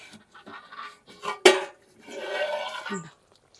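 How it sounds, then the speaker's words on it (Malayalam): The metal lid of a pot of fish-head curry is lifted off the stove, giving one sharp clank of metal against metal in the middle of scattered kitchen clatter and quiet handling sounds. "അടപ്പ് തുറന്ന് നോക്കട്ടെ"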